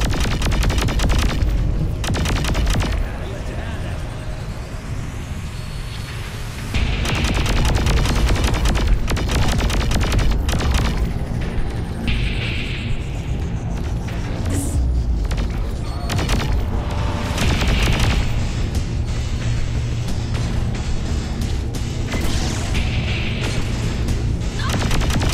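Loud, continuous explosions and booming blasts rock a ship in the Saints Row IV video game, with rumbling impacts and crackling gunfire-like bursts filling the scene.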